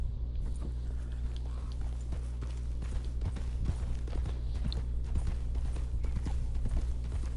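Horse hooves clip-clopping in the video game Red Dead Redemption 2, a steady rhythmic run of hoof beats at moderate level over a low droning background.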